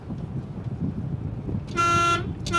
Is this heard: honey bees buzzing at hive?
no